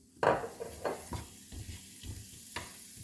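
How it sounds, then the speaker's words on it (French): Butter melting in a heated frying pan gives a soft sizzle beneath a few close scrapes and knocks of a utensil against the pan. "فانا دابا درت الزبده ديالي تذوب"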